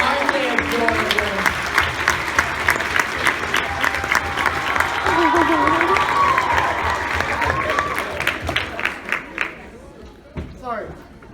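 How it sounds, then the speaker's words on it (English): A live audience at a Q&A with James and Brett claps in loud, sustained applause for most of the stretch, thinning into scattered claps near the end, with a voice heard over it. "Guys, give them a big round of applause."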